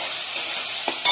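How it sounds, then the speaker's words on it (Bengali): Spice paste sizzles steadily in hot oil while being stirred in a pan, for a curry of bhetki fish head with potatoes; a loud, close, continuous hiss with a few scraping stir strokes near the end. "এবার মশলাটা আমি ভালো করে ভেজে নিচ্ছি"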